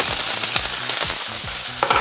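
Chopped onions, green pepper and garlic sizzle and crackle in hot oil in a pan, a steady close fry broken by repeated scraping stirs, with no talking.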